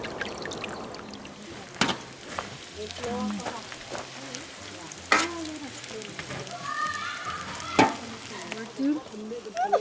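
Chilaquiles fry and sizzle in a pan at a campsite, a steady crackling hiss broken by a few sharp clanks of utensils, with people talking nearby.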